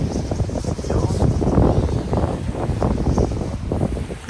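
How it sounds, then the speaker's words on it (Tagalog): Strong typhoon wind in Taiwan roars steadily and loudly across the whole stretch, a dense buffeting rush with gusty swells, with a voice speaking beneath it. "lakas pa rin ang hangin"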